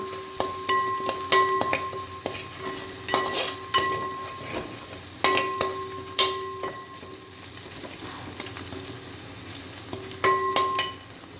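Fennel and spices frying in hot oil in a pan, a steady close sizzle punctuated by sharp metallic clinks and scrapes of a spoon against the pan in bursts.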